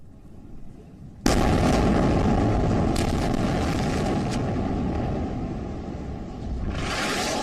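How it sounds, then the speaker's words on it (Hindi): An Israeli air strike on Gaza: after a short stretch of low background noise, a sudden loud blast erupts into a sustained heavy roar and rumble that carries on for several seconds, with a fresh surge near the end. "इजराइल की वायुसेना लगातार गाजा में हमास के ठिकानों को बम से उड़ा रही है और इमारतों को ध्वस्त कर रही है"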